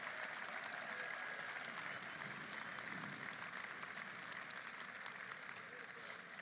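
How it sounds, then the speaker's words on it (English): Crowd applause for a Senate caucus at a celebration of a bill's passage, a steady wash of clapping heard at moderate distance. "Let's have a round of applause for our great caucus."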